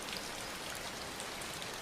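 Steady rain falling, an even broadband hiss of drops on surfaces with faint individual patters, continuous and alone throughout.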